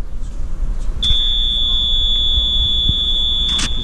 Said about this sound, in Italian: Ci sono suoni disturbatori ovunque in questa città. Allarmi, beep, sirene, c'è tutto e di più.